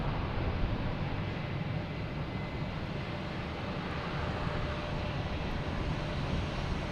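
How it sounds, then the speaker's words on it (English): A JetBlue airliner arriving at Logan Airport gives a continuous broad roar of engine noise that stays fairly steady and distant throughout, with no voices. "we have a JetBlue coming in from Buffalo"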